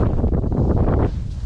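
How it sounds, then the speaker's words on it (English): Strong wind roars into the microphone beside a lake while an angler casts a Shimano Metanium Shallow Edition baitcasting reel. The rough, loud gusting buffets continue for a second and a half before easing slightly. "Wind all up in my face."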